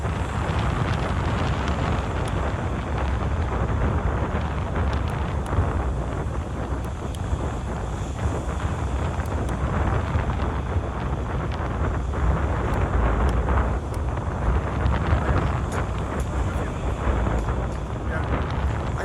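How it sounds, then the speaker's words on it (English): Strong wind buffets the microphone in a constant roaring rush, loud and close, with gusts swelling and fading throughout. "Now, hiding, very windy here."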